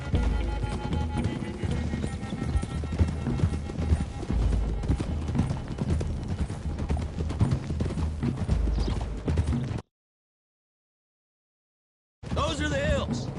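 Horse hooves clip-clop steadily in Red Dead Redemption II as a group rides along a road, a busy rhythmic patter that cuts off into silence near the end before resuming briefly.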